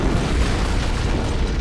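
Deep, rumbling boom from an antimatter charge detonating aboard a starship in Halo: Combat Evolved, a sustained low roar filling the short moment with no speech.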